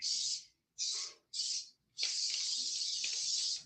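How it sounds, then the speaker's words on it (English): Cooking spray hisses onto a baking pan for pumpkin bars in three short bursts followed by one long continuous spray, close and fairly loud with no talking. "So your very first step is you're going to spray your pan."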